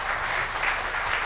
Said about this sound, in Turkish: Bence burada bir alkış olmalıydı